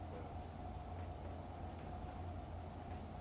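Simulated train rolls steadily along the track in a Trainz railway game, a continuous loud low rumble with steady hum and no breaks.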